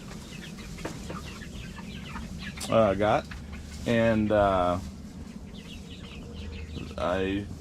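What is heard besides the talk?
meat chickens clucking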